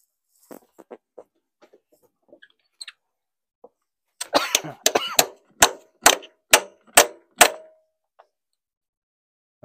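Metal hammer blows on the crusty rocker cover of a Ford Fiesta 1.0 EcoBoost engine. A quick cluster of ringing hits comes first, then six loud, evenly spaced strikes, after some faint earlier clicks and no talk.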